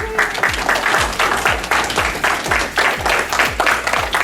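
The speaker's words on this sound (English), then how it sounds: "give them a round of applause" An audience at a science fair breaks into sustained applause, dense clapping loud and steady throughout with a faint rhythmic thump pulsing beneath it.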